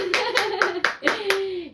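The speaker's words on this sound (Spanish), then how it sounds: "vamos a darle un fuerte aplauso a nuestra invitada, la catequista Claudia" A few spaced hand claps on a radio show welcoming a catechist guest, about six distinct sharp claps in quick rhythm, close, with a sustained voice tone running underneath.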